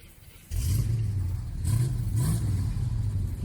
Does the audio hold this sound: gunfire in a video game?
no